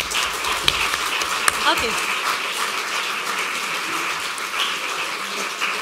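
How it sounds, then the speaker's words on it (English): Audience applause at a lecture, a steady, dense wash of clapping from a room full of people that holds for several seconds, with a brief spoken word heard at the start. "So a little applause for them."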